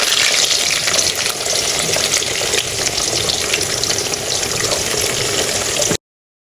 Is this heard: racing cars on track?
no